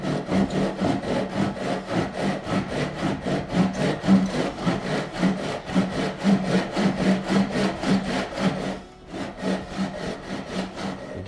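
Hand saw cutting wood for a Telecaster guitar body, blade held parallel between two guide blocks; steady rhythmic back-and-forth strokes, close and loud, with a brief pause near the end.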